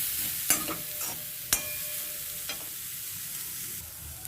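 Grated coconut being dry-roasted in a pan for modak filling, a soft steady hiss of heat with a few sharp scraping knocks of a spoon against the pan as it is stirred, close by with no voices.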